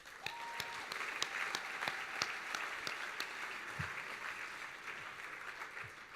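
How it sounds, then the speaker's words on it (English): Sustained audience applause at a mental health awards event, a steady wash of many hands clapping, moderately distant with a few sharper individual claps standing out. "Please give me a round of applause for that."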